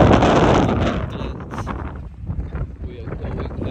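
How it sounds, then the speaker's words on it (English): Strong wind buffets the microphone outside the Arken Museum in Copenhagen, a loud rushing roar that eases slightly after the first second and keeps gusting. "And it's very windy."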